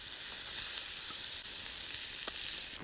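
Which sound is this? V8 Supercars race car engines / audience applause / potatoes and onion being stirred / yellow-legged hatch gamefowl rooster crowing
potatoes and onion being stirred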